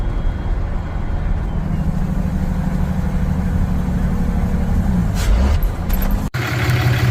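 A 12-valve Cummins diesel in a pickup truck with a six-speed G56 manual transmission idles with a steady, loud, low rumble, and a sharp click comes near the end.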